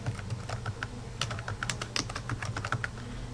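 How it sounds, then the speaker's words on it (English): Typing on a computer keyboard while entering names into a spreadsheet, producing a steady run of quiet, close key clicks at an even pace, alone without speech. "in here we're going to type defined names"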